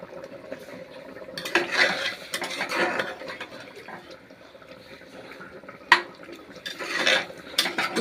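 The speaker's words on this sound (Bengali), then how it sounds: "মাংসটা এখন টকবক করে ফুটছে। একটু কষিয়ে নেব," Meat is stirred and braised in a cooking pot, with a spoon scraping and clinking against the pot and a soft bubbling simmer underneath. The sounds come in irregular bursts, fairly quiet and close, with one sharper knock.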